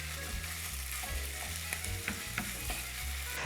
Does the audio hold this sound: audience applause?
no